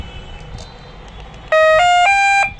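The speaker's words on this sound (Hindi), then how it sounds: "ये एंटी थेफ्ट अलार्म सिस्टम का ये चालू हो गया" Anti-theft alarm on a 48/60/72V electric scooter with a sine wave controller switching on: a loud, close electronic tone starts abruptly and steps up in pitch through three short beeps over about a second, alone after a quiet background.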